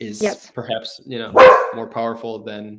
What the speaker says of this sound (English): sorry about my dog again.